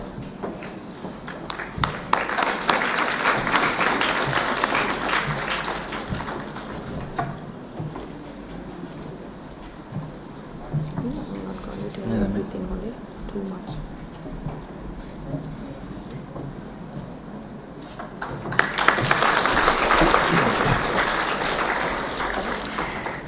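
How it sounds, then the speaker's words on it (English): Audience applause at an international research conference of the Open University of Sri Lanka. Dense, steady clapping swells for several seconds, eases into a quieter stretch, then rises again in a second strong round. "Let us once again show our appreciation for our distinguished guests with a warm round of applause."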